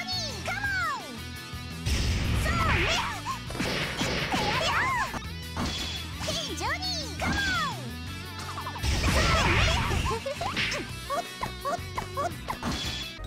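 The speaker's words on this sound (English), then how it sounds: "That is a sound from Melty Blood, which is a fighting game for both PC and PlayStation" Melty Blood, a fighting video game for PC and PlayStation, plays a busy burst of game audio: repeated sharp smashes and whacks with swooping tonal chirps and effects, loud and dense throughout with no talking.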